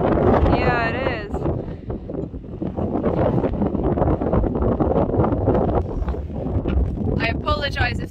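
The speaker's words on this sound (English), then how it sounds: "It's a bit windy." Heavy wind on Achill Island buffets the microphone in loud, blustery gusts while people talk over it throughout.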